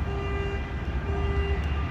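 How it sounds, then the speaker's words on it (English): Car horns sound nearby at Century Field, with a sustained honk heard twice over a rumbling background of traffic and wind and no talking. "What is with the honking in this area?"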